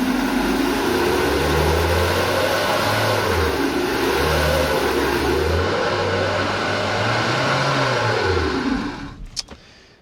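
A 2026 Toyota RAV4 AWD engine revs hard and steadily, rising and falling in repeated surges while its wheels slip during an off-road traction test, then cuts off abruptly near the end.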